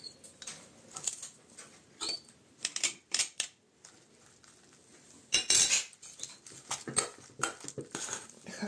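A spoon scrapes and clinks in a bowl while stirring a cottage cheese spread with cheese, mayonnaise and pressed garlic, in irregular bursts of close metallic scraping and taps with brief pauses between them.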